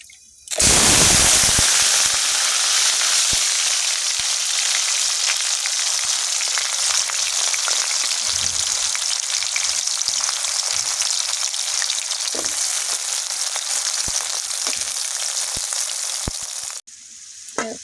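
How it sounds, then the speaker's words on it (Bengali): Potato and bitter gourd drop into hot soybean oil and burst into a loud, steady sizzle of frying close by, which holds level throughout before cutting off near the end. "আলু করলা একসাথে দিয়ে দেব।"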